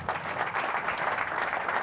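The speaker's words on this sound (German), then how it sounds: "das ist ein Applaus wert, dieser Mann hier" A television talk-show studio audience applauds a rally co-driver guest, dense steady clapping from many hands filling the whole moment at moderate level, with no voices standing out.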